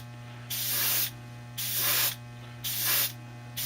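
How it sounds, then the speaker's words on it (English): Spaz Stix chrome spray paint hisses from an aerosol can in three bursts of about half a second each, separated by short pauses. A steady low hum sits underneath, and no one speaks. "it's looking wet as I'm spraying it"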